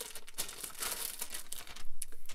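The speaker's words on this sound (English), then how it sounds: "This is a roll of the other type of vinyl." A roll of glossy craft vinyl is handled up close, giving soft, irregular crinkling and crackling plus a few faint taps, quiet and with no voice.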